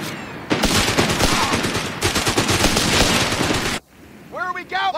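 Dense automatic gunfire from Company of Heroes 3 combat rattles in two long loud bursts, then cuts out as game voices speak over quieter ambience.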